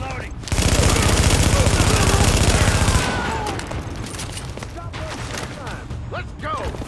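Sustained automatic gunfire from The Division's New York combat rattles loud and continuous for a few seconds, then fades into scattered shots and background battle noise, with a voice calling out over it.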